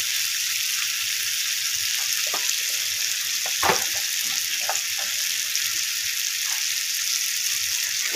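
Potatoes frying in a pan, a steady broadband sizzle running throughout with scattered soft scrapes and clacks of stirring, one louder knock near the middle, no voices.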